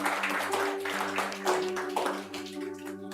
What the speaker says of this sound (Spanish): Denle un aplauso al Padre Celestial.